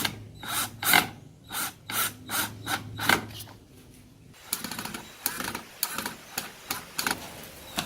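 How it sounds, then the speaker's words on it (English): Wooden planter parts are screwed together, first with a rhythmic series of separate ratcheting, whirring bursts and then with a denser rasping grind of screws biting into wood, close and fairly quiet. "screwing the things together."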